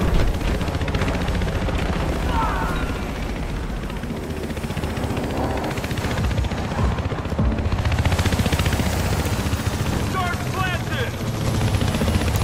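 A helicopter in the video game Battlefield Hardline thrums loud and constant with rotor chop, mixed with bursts of gunfire and game voices calling out over the battle.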